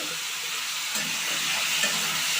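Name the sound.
beans and tomato frying in a pan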